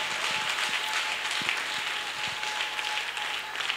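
A church congregation applauds at a Christian convention, steady broadband clapping held at an even level from start to end with no break.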